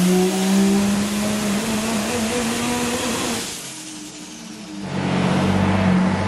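Nissan RB-engined car running hard on a dyno, a loud sustained engine roar with strong harmonic tones that drops briefly as revs fall, then surges back up, with no talk over it.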